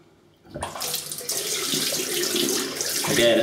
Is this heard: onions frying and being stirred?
no